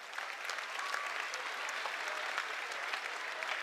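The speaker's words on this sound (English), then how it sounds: "Yes, please give them a round of applause." Spectators in a gym at a high school boys' basketball game applaud the officials with sustained, even clapping, fairly distant and soft, with occasional scattered voices mixed in.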